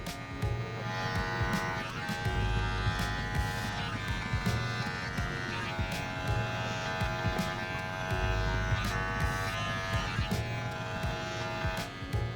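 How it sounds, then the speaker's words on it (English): Electric hair clippers trimming a fade during a men's haircut at a barber studio, a continuous close buzzing hum with small shifts as the blade moves through hair, no talking. "open my clipper all the way up, and I'll go right below that line"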